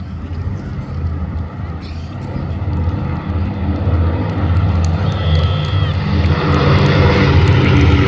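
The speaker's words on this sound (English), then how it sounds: "Spitfires today flown by Squadron Leader Giles Croft and Flight Lieutenant Andy Priest." Spitfire aircraft at the Midlands Air Festival 2025 air display: a deep propeller engine drone builds steadily louder as it passes overhead, rising to a full roar toward the end, heard outdoors at a distance.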